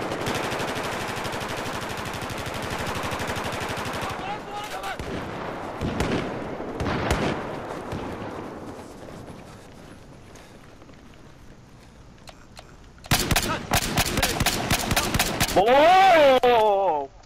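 Automatic gunfire in the video game Battlefield 4 during team deathmatch play, rapid sustained bursts through most of the stretch and a louder burst of repeated shots near the end, with a voice talking over the game sounds.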